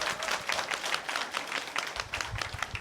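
An audience at a city council policy forum on childcare and education applauds after a presentation, steady moderate clapping from a crowd with a slightly rhythmic pulse, heard at a little distance.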